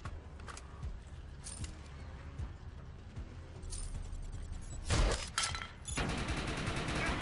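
Rifle shots in the shooter game Defiance: scattered sharp cracks and bursts of gunfire over a low rumble, growing louder and denser toward the end, with no speech.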